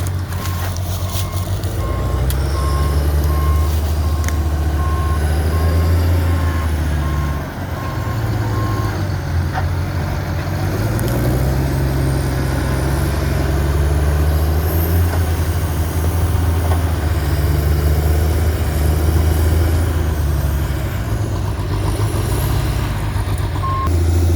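Two John Deere log skidders work a clearing, their diesel engines rumbling and shifting in pitch while a repeated reversing beep sounds steadily over the machinery for most of the stretch.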